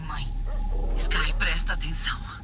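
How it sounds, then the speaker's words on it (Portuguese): A dog barks in the video game Watch Dogs: Legion, a few short yelps that stay partly buried under steady game dialogue and background music. "Eu tô ouvindo um cachorro latindo."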